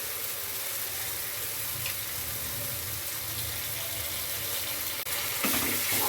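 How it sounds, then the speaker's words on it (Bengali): A spoonful of ginger and garlic paste fries in a pan for Bengali-style potoler dorma. A constant broadband sizzle hisses at moderate level throughout, and a brief clank comes near the end. "এবারে দিয়ে দিচ্ছি 1 চামচ আদা আর রসুন বাটা।"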